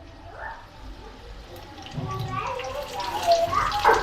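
Bhaji fritters go into hot oil, and a bubbling, watery sizzle swells up about halfway through and keeps growing. A person talks over the frying.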